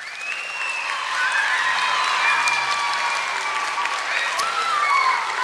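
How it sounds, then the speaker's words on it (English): An audience applauds after a fourth grade school musical, a dense, sustained patter of clapping from a sizable crowd. Whistling and cheering tones rise over it, loud and steady throughout. "Let's give them all one more round of applause."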